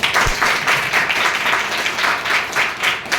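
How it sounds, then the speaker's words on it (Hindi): An audience at a JCI leadership training session applauds with dense, continuous clapping that swells and dips gently over a few seconds. The applause is close and steady, with no voices over it. "आप लोग फिर से प्रशांत सर के लिए ताली बजाइए।"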